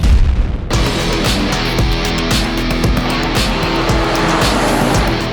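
A 1970 Hellbird Mopar muscle car roars on the road, its loud engine bursting in after a brief quiet start and then holding a steady, powerful drone with hard revving surges and hints of tire noise throughout.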